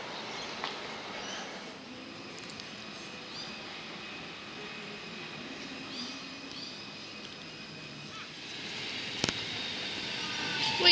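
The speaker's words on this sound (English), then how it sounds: "We have the Hurst Bridge service arriving to the platform." A Hurstbridge line train rumbles in softly at the Jolimont-MCG station platform in Melbourne, with a faint steady whine and occasional clanks, growing slightly louder near the end.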